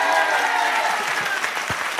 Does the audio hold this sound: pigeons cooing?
no